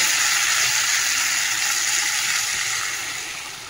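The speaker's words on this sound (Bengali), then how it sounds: "সবাই জল দিয়ে দিই।" Water poured into a pan of spice paste being fried for a curry sets off a loud, steady hissing sizzle that slowly fades as the liquid settles.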